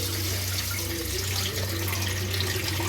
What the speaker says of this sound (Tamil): அந்த கலர் வந்து தண்ணி மாறுற வரைக்கும் க்ளீன் பண்ணி எடுத்துக்கலாம்.